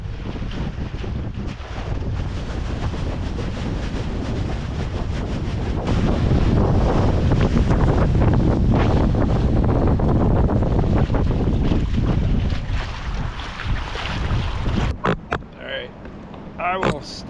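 Strong wind roars and buffets the microphone as a boat runs through choppy water on the Columbia River, a dense continuous rush that swells in the middle, then breaks into gusty bursts near the end.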